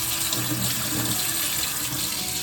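Water runs steadily from an opened tap on a gas water heater, a continuous close hiss and gush lasting throughout with no talking.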